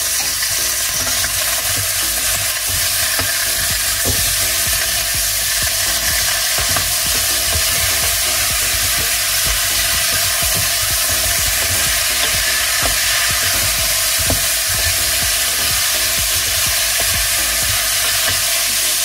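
Frozen tomatoes going into a pan of chicken curry set off a loud, steady sizzle with occasional stirring scrapes throughout, close up and with no voices.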